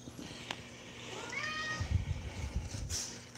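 A single house cat lets out one drawn-out meow up close, set against quiet indoor background noise.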